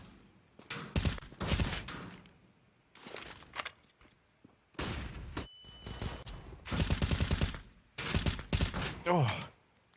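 Pistol fire in a Counter-Strike match on Dust2, with several rapid bursts of sharp shots in clusters separated by short pauses, loud and close and heard alone.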